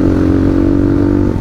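A motorcycle rides onto a bridge on a mountain road trip in Rasuwa and Nuwakot, Nepal, its engine a loud, close, steady drone with faint rattling throughout.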